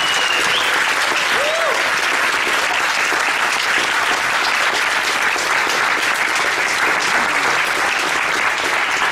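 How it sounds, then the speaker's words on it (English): Warm audience applause at a transpersonal symposium, a dense, steady wash of many hands clapping close and loud from start to end, with scattered voices and a brief whoop mixed in. "So I just want to give a warm round of applause for Stan."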